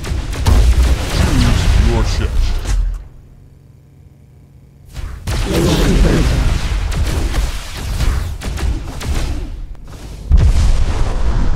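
Heavy missile explosions in the Descent: Underground multiplayer video game, loud booming blasts in bursts separated by a quieter lull, with game voice announcements heard in between.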